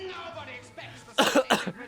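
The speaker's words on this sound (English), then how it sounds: "I'm coughing now" Two sharp coughs burst out close by, preceded by quiet murmuring and throat noise.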